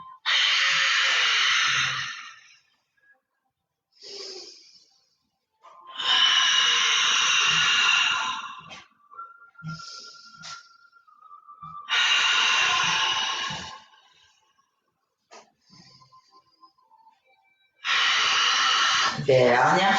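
A group breathes in and out during a floor exercise class, with four long, forceful, hissing exhales spaced through the stretch, and an instructor's voice talking in the gaps between them.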